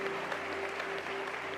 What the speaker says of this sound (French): En bas l'éternel, un bel applaudissement.